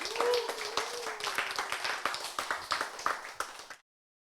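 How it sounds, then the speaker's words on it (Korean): A small group claps for a few seconds, uneven and fairly close, with a voice briefly calling out over the applause before it stops abruptly. "박수."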